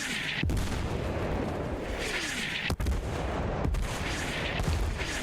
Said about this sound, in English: Artillery comes in from the cannons,